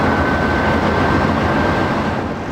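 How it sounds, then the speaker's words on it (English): A loud, steady rumble of a passing train fills the whole stretch, broad and continuous with a faint high whine riding on top. "There's a little more blue heron fishing with the train noise going by."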